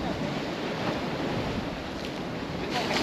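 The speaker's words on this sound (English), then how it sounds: "Watch this little wave come up here." A small ocean wave washing onto a coral coast on Roatan, heard as a steady wash of surf mixed with wind noise on the microphone.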